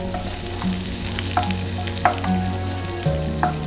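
About 20 grams of butter melts in a hot pan for butter chicken, with a close, steady sizzle and frying crackle broken by a few soft stirring scrapes.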